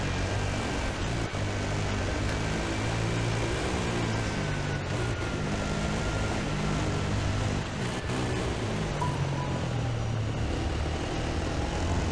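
A helicopter flies overhead during a desert rally stage in the Dakar Desert Rally video game, heard as a continuous droning whir blended with a steady vehicle engine hum throughout.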